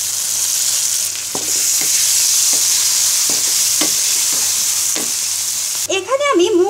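Spiced masala of cumin powder, turmeric, salt and chopped tomato sizzles steadily in a pan for making hilsa khichuri, with repeated scraping stirs and a brief high clatter near the end.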